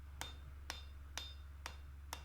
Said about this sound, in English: So again, we're just kind of hammering along here.